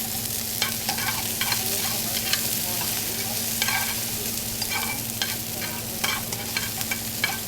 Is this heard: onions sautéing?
yes